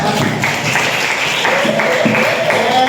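A group claps together in a classroom, a steady patter of many hands with some faint voices mixed in.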